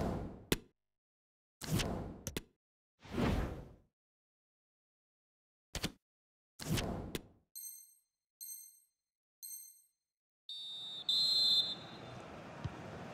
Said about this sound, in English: So, the whistle then.